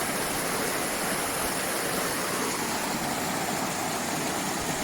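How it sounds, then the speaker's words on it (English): Water pours in a constant broadband rush, a steady roaring wash with no pauses. "So I find another waterfall."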